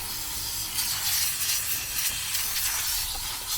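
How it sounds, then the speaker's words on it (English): An air compressor nozzle on a hose blasts loose concrete and debris out of drilled holes in concrete steps, a continuous hiss with slight surges over three and a half seconds. "What I have now is just an air compressor nozzle hose to"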